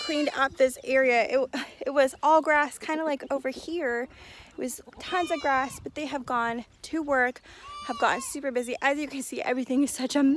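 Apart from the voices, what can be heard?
No everyday noise stands out behind the speech.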